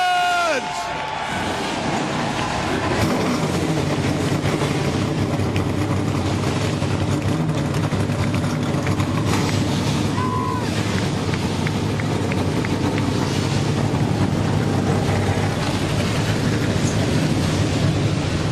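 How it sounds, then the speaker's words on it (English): Race truck engines starting and rumbling together at Bristol, a dense, steady roar that holds loud and continuous for the whole stretch, with crowd noise mixed in. "Drivers, start your engines!"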